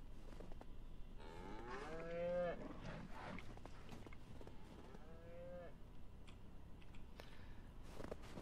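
Cows moo in the farming video game Ranch Simulator, two drawn-out calls, the first longer and louder, heard against a steady low background.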